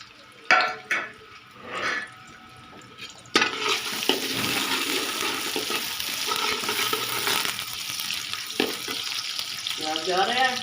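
Chopped onion hits a hot pan and bursts into a loud, steady sizzle of frying that continues to the end, after a few stirring clatters and a brief voice beforehand.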